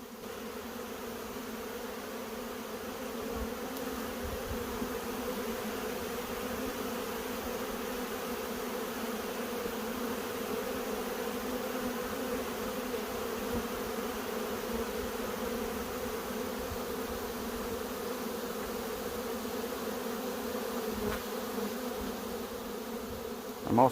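A swarm of honey bees flying around in a dense, steady buzzing drone that holds evenly loud and close throughout, with no voices.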